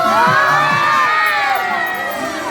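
Children in an audience at a Christmas party magic show cheer and shout loudly together in a continuous wave of noise. Some clapping is mixed in, and excited young voices rise above the crowd.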